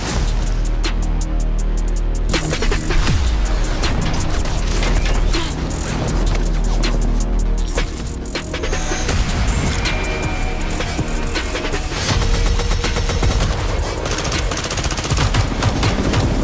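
Rapid automatic gunfire and sharp single shots from a Call of Duty: Modern Warfare II Season 4 trailer pour out in loud, dense bursts, with crashes and impacts mixed through almost continuous shooting.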